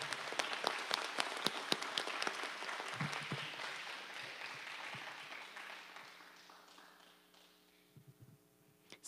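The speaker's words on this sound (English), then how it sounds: "Let's give these ladies another round of applause." An audience at a school district spelling bee applauds with dense, steady clapping that starts fairly full and gradually fades away over several seconds, heard from some distance and fairly faint overall.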